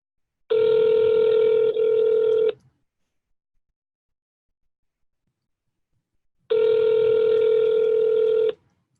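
A telephone line tone sounds during a run of outbound sales calls, in two steady bursts of about two seconds each, separated by several seconds of silence. The tone is clear and close, with no talking over it.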